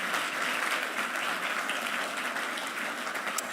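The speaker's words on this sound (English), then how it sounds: "A round of applause for them." Audience applause at the AIXR XR Awards 2024 ceremony, a sustained wash of many hands clapping evenly throughout, loud and continuous.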